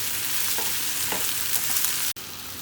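Ginger, garlic, chilli and tomato hit onions frying in a pan, giving a steady loud sizzle with faint stirring scrapes and a brief dropout near the end.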